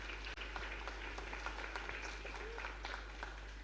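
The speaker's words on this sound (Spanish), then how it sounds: "Un fuerte aplauso para él." A congregation applauds during Mass in a chapel in Lambaré: dense, even clapping that sounds somewhat distant and continues steadily over a low electrical hum.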